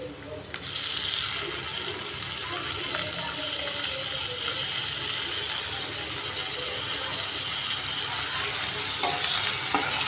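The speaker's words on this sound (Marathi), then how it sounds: "कांदा चांगला फ्राय झाला ना की त्याच्यामध्ये टोमॅटो टाकून घेते" Onion and tomato fry and sizzle in a pan for an aubergine bharta, with steady dense hissing throughout and a spoon scraping and stirring in irregular clatters close by.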